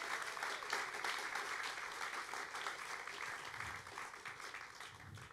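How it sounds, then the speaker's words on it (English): An audience at a post-screening Q&A for a documentary film applauds warmly, a full, even round of clapping from a crowd that tapers slightly toward the end. "We get one more round of applause for this incredible film."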